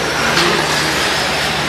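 Radio-controlled cars racing around an RC raceway track, a loud, continuous high engine whine and buzz filling the moment with no pause.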